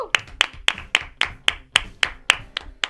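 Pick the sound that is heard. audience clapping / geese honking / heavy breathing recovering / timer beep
audience clapping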